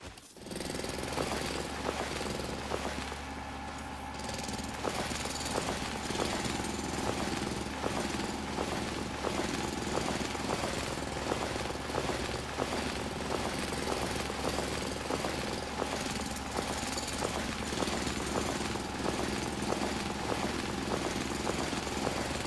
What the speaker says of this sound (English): Why do you want to explode anything when you can do that wonderful drilling?